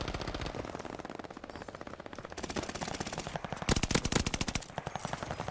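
Automaton machine gun firing in Call of Duty Vanguard, fitted with a 90-round magazine: long, loud sustained bursts of rapid shots, continuous and rhythmic, with a denser, heavier stretch near the end and no talk.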